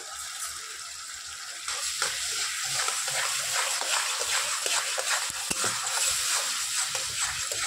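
Vegetables for a paneer omelette dish being sautéed with a little sugar and stirred in a pan, a continuous close sizzle that swells after a couple of seconds, with scraping spatula strokes and small pops, no voices.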